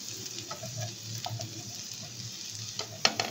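Shrimp sizzle in a pan for a creamy pasta, a steady frying hiss with a few brief scraping stirs, close and moderately loud, ending in a sharper clink near the close.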